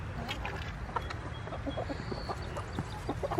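Older laying hens, about two years old, cluck softly in a farmyard with scattered short calls over a constant low background rumble, no talking.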